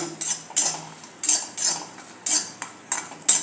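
Spatula scrapes and clatters against a dry pan as garlic cloves and green chillies are stirred and roasted for thecha, a string of sharp metallic strokes in an irregular rhythm, close and alone.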